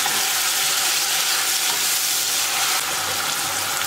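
Onions and peppers frying in a pan, a dense, steady sizzle that fills the whole stretch at close range, with no voices.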